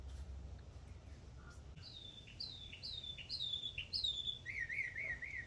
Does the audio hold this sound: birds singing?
yes